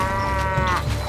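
Cattle low in a medieval castle-building strategy game, a single drawn-out moo with clear harmonic layers lasting about a second, fairly loud and heard alone without talk.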